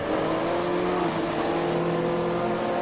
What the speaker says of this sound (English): Oh, you can hear the Lancia